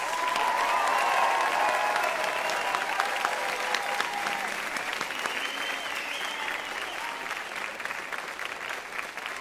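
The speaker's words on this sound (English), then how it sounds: "One more round of applause for our graduates." Sustained audience applause fills a commencement and awards ceremony hall as graduates are honored, a dense, steady wash of many hands clapping that stays fairly even for several seconds with faint voices mixed in.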